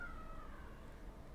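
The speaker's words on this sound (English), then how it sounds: "Are you meowing about the dog in his cage?" A pet cat named Mr. Midnight meows once near the start, a drawn-out mid-pitched cry that fades into a quiet indoor room with a low background hum.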